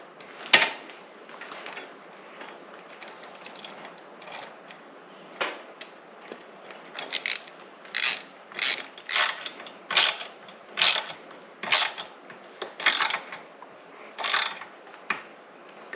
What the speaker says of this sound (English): Go ahead and snug your bolts up after you got them all started.